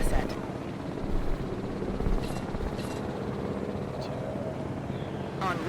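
A helicopter in the Jurassic World video game flies steadily with a continuous low rotor drone and broadband whoosh, staying fairly loud throughout with a few brief clicks.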